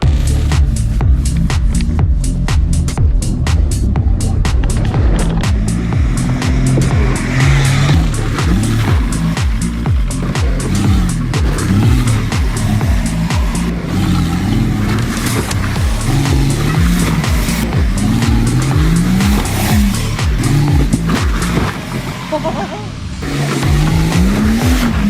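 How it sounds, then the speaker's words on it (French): A BMW car revs hard and drives up a ramp to balance on two wheels, its engine loud and close with rising and falling pitch, tyre noise and rattles throughout, briefly dipping near the end. "de faire du 2 roues avec une voiture"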